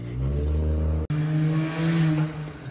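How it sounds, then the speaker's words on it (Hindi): A drift car's engine drones steadily from somewhere out of sight, with one short gap in the sound. "गाड़ी आपको नजर नहीं आ रही लेकिन आवाज आ रही है"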